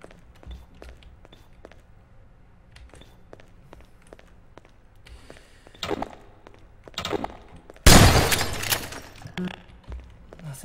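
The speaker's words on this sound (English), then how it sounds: "Don't really want to go smashing the glass there." Glass smashes loudly with a bright crash partway through, in Half-Life 2: Episode Two inside a mining complex. Before it come quiet footsteps and taps, and the shattered pieces clatter and tinkle afterward.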